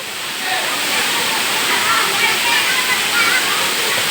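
Constant roar of Sarugudu waterfall pouring down from the hill, loud and close, with faint voices under the rushing water.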